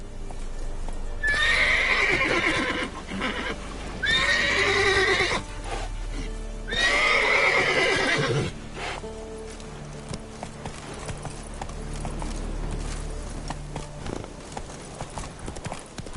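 Roach, a horse in The Witcher 3, neighs loudly in three long whinnies, then gallops with rapid rhythmic hoofbeats under game sounds and faint music.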